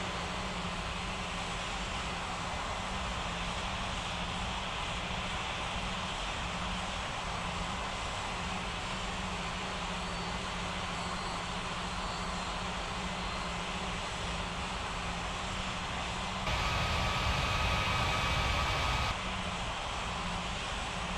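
An airliner taxiing in an ATC simulator game gives a steady, droning engine whine, constant and moderately loud throughout, with a brief rise in broadband noise near the end.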